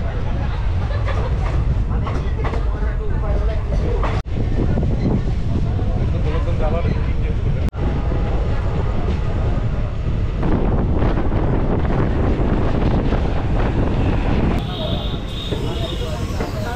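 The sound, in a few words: Rajya Rani Express train running at night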